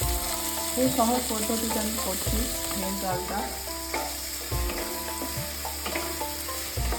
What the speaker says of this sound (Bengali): প্রথমে আমি কপিটাকে ভালো করে ভেজে নেব